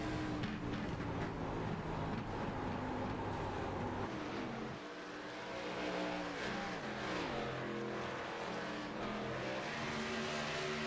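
A loose K&N race car and the surrounding field in sim racing at Indianapolis, engines droning and revving continuously, with pitch sweeps as cars shift and pass, close and steady throughout.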